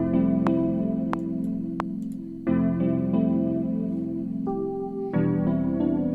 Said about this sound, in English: a sound inside Anitu called Dire DX